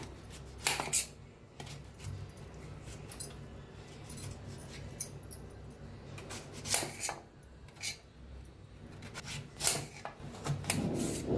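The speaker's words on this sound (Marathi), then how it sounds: "वरची सगळी साल काढून घेऊया। तर आंबे साल काढून घेतलेले आहे, कापून घेऊया।" Raw mango gets peeled and cut with a knife at close range: soft scraping and rubbing, with several sharp tapping clicks against the board scattered through, fairly quiet and without speech.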